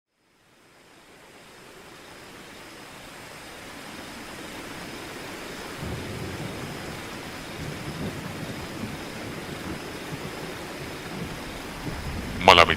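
Heavy rain hisses steadily, swelling from silence into a dense roar, with low rolling rumbles of thunder beneath and a sharp crackle at the end.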